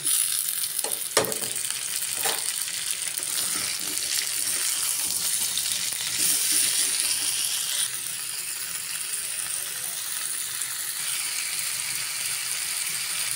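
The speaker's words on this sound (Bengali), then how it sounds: "পটল আর আলুর সাথে টমেটোটা একটু ভেজে নেব" Tomato fries in a pan with pointed gourd and potato, giving a steady, loud broadband sizzle throughout, with a few clinks of a spatula stirring early on.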